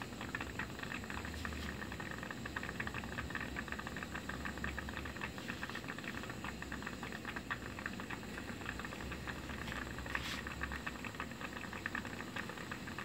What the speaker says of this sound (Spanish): Todo está ahí hirviendo ahí